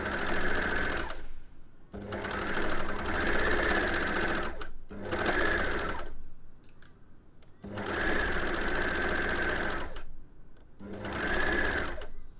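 Overlocker sewing the curved crown seam of a fabric beanie, a fast, close whirring buzz in five bursts separated by short pauses.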